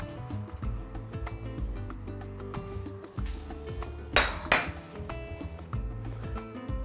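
Two potatoes dropped one after another into a cooking pot for soup land as two quick, close thuds within half a second, among faint clinks of kitchenware.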